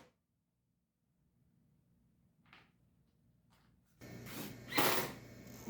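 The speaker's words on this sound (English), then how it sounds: "Here the project board is being screwed to the melamine board." A screw is driven through a 1/4 inch Baltic birch plywood project board into a melamine board. After near silence, a short close-up burst of ratcheting, grinding turns is heard near the end.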